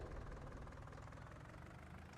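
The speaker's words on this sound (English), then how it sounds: "let's get this tractor back." A tractor engine in the farming game Farming Simulator 19 idles with a steady low rumble and a faint knocking vibration, running on alone with no voices.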